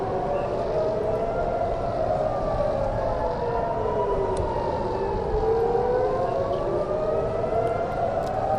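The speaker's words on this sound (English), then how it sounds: "Oh yeah, these are the rocket alerts." Civil defense rocket alert sirens wail across Israel during a missile attack from Iran, several overlapping tones rising and falling slowly and continuously at moderate distance, with no voices over them.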